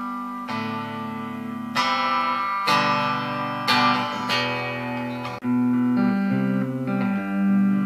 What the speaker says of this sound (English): an echo.